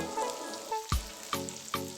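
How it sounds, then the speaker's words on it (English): Chicken pieces frying in hot oil in a frying pan, a faint soft sizzle broken by a few sharp crackling pops. "Once the oil is hot, add the chicken pieces in the frying pan. Fry the chicken for around 5 minutes on one side without stirring."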